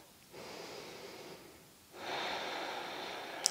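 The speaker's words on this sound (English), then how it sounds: "Take two deep breaths here." Two slow, deep breaths taken during gentle restorative yoga, each a long, soft airy inhale or exhale lasting over a second, close to the microphone and quiet.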